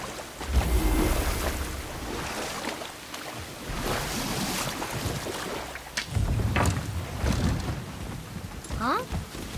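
A boat in the video game God of War churns through water with steady splashing and wash, loud and close, with rushing waves throughout.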